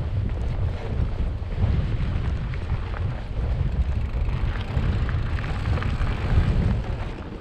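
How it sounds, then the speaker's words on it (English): A strong headwind buffets the microphone on a ride near wind turbines at Llyn Brenig and Alwen Reservoir, a continuous loud, low roaring rumble that swells and eases throughout, with no talk. "but there's a horrible headwind."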